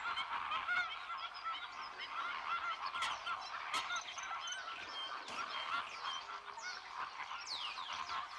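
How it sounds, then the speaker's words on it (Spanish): Loud, busy chorus of honking waterfowl calls in the Doñana marshes, where moulting ducks gather, with many overlapping nasal calls close and far against a quiet background. "En Doñana, precisamente, se alberga la mayor población de patos en muda de toda España."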